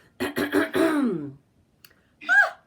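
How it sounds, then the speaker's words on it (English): A person clears their throat with a long, gravelly rasp, then a pause follows before a second, shorter throat-clearing sound. "So clear your throat right now."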